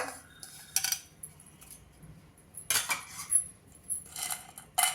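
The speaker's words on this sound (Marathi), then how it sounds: "कडीलिंबाची पानं ती पण बघा कशी छान खुळखुळ वाचत आहेत इतकी छान परतली गेली आहेत" Curry leaves dry-roasting in a pan with sesame and coconut give dry, crisp rattles in several short bursts, with clinking metallic scrapes against the pan between quiet gaps.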